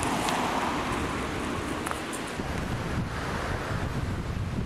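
Sea waves and strong wind at the seaside by a small hotel near Cairns, Queensland, Australia, a steady loud roar of surf with heavy wind buffeting the microphone and no talking.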